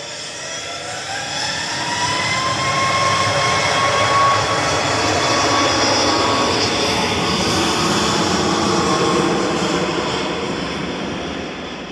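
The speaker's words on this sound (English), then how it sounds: "Flight 2100, IGM, and MAX 8 200 on the roll." Ryanair Boeing 737 MAX 8 bound for Corfu on its takeoff roll at Manchester Airport, a loud, steady jet engine roar that swells and holds with a rising whine, rumbling alone throughout.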